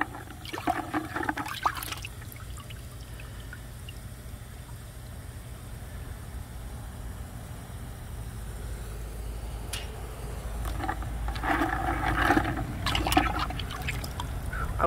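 Cold tap water running steadily while items are rinsed, a continuous splashing hiss with louder bursts at the start and end, close and moderately quiet.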